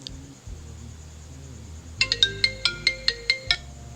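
An incoming-call ringtone sounds on a phone during a live stream from a temple in Chiang Mai, with about nine bright, evenly spaced chiming tones over a low background hum.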